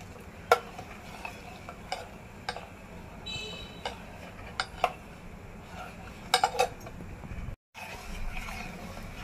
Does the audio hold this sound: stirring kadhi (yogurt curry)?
yes